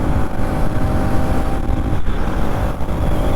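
A Bajaj Pulsar NS200 BS6 motorcycle engine drones loudly and steadily while riding, with brief dips in pitch and level as the gears shift.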